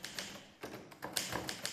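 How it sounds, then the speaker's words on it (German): An old typewriter is typed on nearby, giving a quick irregular run of sharp key taps and clacks, fairly faint and with no voices. "Auch heute in Zeiten des Computers nutzt sie noch immer gern das alte Schreibgerät."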